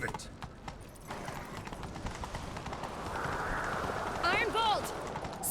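In The Witcher 3, horse hooves clip-clop at a gallop under urgent voices, with a whinny near the end.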